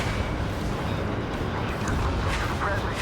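A heavy, rumbling blast destroys an enemy facility in the combat flight game Ace Combat 7, a thick low roar rolling on for a few seconds with crackling debris on top.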